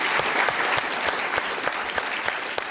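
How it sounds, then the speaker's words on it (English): Audience applause for panelists at the Davos 2024 World Economic Forum, a dense, steady clapping from a large crowd filling the room throughout, with no talk over it. "So give them an applause."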